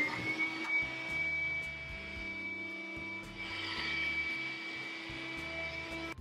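A Black + Decker PD1200AV handheld car vacuum cleaner runs with a steady, high-pitched motor whine and an airy rush, holding constant and close for several seconds.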